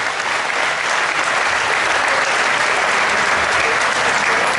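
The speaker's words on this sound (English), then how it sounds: "So let's give them a big round of applause," A crowd at a basketball night event gives a big round of applause, a dense, steady wash of clapping that stays loud and even throughout with no voices over it.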